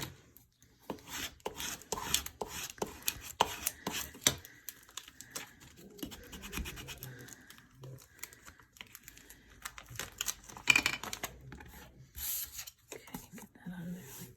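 Transfer tape for a paper flower on a Mother's Day pop-up card being handled at close range, with sharp crackling snaps and crinkles early on, then softer rustling and an occasional voice.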